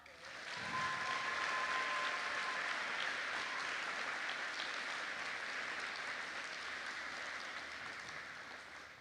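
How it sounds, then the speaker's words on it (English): Sustained applause from a graduation ceremony audience honoring scholarship recipients, steady and fairly dense, fading slightly toward the end. "Please join me in offering these students one more warm round of applause for their rewards."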